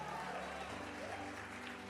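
A church congregation at a Pentecostal service applauds, a continuous wash of clapping filling the room with voices mixed in beneath it.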